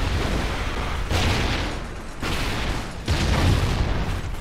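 Fast-killing gun in a Call of Duty Ghosts multiplayer match on PS4: loud, booming bursts of fire in three clusters, thick and heavy against constant battle noise.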